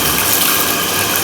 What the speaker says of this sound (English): here you can just get a little bit of water and just lightly rinse out the filter media